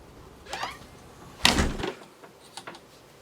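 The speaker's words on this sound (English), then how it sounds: "Patio door." A sliding patio door rolls along its track with a short rumble, then a louder sliding sweep ending in a thud, followed by a couple of faint knocks.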